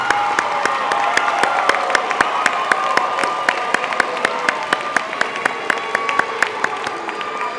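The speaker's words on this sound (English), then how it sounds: "Please join me in applauding for our third group of graduates." A hall audience at a STEM high school graduation ceremony applauds graduates, a long even bed of clapping and light cheering, with a sharp nearby clap repeating at a regular beat throughout.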